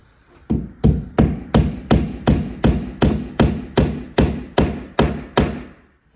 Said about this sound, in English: Now let me go get my hammer. I'll pound that in